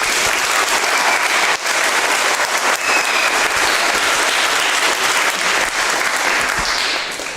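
Audience at a junior high and high school spring concert applauding loudly and continuously, a dense wash of clapping that holds steady for several seconds before starting to taper off at the end.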